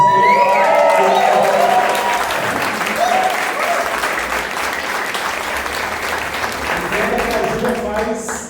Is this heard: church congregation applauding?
yes